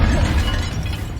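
Fiery Confringo spell impact from Hogwarts Legacy, a loud crashing burst with a shattering, breaking edge over a deep rumble, sustained through the short moment with no speech.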